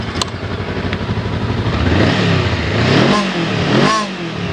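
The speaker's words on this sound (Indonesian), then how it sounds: "khas mesin 2 silinder." A 2017 Honda CMX500 Rebel with a 500cc two-cylinder engine revs up close, its loud throbbing idle climbing through two strong rising-and-falling revs.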